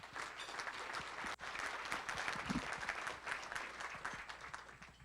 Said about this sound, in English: let's give our ports and their respective executives another round of applause,